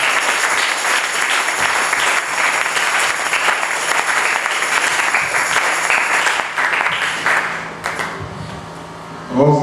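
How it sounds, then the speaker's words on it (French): A congregation applauds during a French-language sermon: loud, sustained crowd clapping that fills most of the stretch, thins out toward the end, then gives way to a brief burst of voices. "Applaudissez pour le Seigneur."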